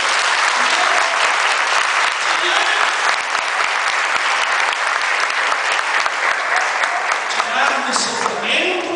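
Loud, sustained applause from a large crowd at a Charismatic Renewal prayer gathering in Patos de Minas, Brazil, a continuous roar of clapping that fills the whole stretch, with voices faintly mixed in.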